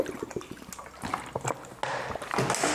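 Drinking water is poured, a close, fairly faint splashing and dripping with irregular gurgles, ending in a steadier stream.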